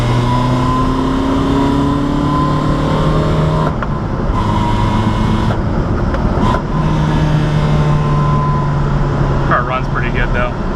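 A Toyota AE86 drift car engine drones steadily while driving, with shifting tones as the revs rise and fall, and brief gaps that could be gear changes.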